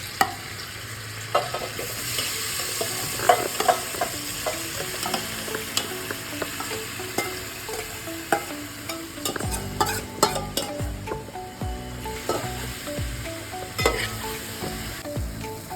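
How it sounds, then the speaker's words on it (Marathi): Paneer tikka frying in oil in a pan, a steady sizzle under repeated clinks and scrapes of a utensil against the pan, close and without speech. "आता हे आपलं तेल टाकलं आहे आणि आपण हे जे टिक्का बनवला आहे पनीर टिक्का त्याच्यामध्ये टाकून घेणार"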